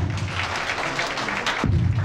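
Audience applause at an official award ceremony in Mali, steady dense clapping filling the room with a low thump near the end.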